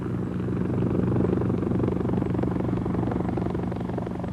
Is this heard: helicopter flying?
yes